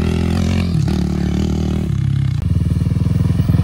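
A Suzuki LTR 450 quad bike doing circles, its engine revving loud and close. It drops from a high whine into rapid pulsing bursts as the throttle changes.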